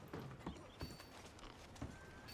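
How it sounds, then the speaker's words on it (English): Horse hooves in Red Dead Redemption 2 clopping quietly in a few uneven steps, faint and close, with no talking. "there's my horse"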